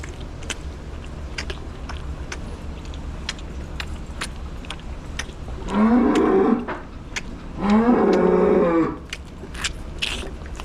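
A cow on a snowy winter farm gives two long, loud bellowing moos a moment apart, over steady low background rumble and faint chewing sounds.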